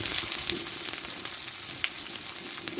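Two large chopped onions frying in oil with panch phoron, a soft continuous sizzle with faint crackles and a few light clinks, close by with no talking.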